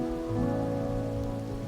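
Rain patters on surfaces in the video game Wuthering Waves, a brief steady wash under held musical chords, close and even with no speech.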